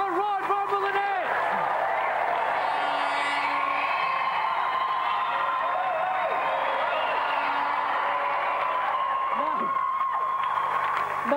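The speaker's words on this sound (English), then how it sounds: "Round of applause for Rod Rambo Lynette." Studio audience applause on a televised arm-wrestling game show, a steady broadband wash of clapping with scattered whoops, sustained throughout at moderate level, with a voice speaking briefly over the start.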